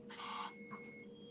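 A short burst of electronic buzzing from a key card door lock locking, followed by a faint thin tone lingering in a quiet room.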